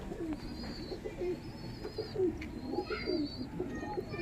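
Madras pigeons, also called gola-line pigeons, coo in a sale loft, a series of soft rolling coos repeating close by over steady background noise, with a few thin higher chirps from other birds.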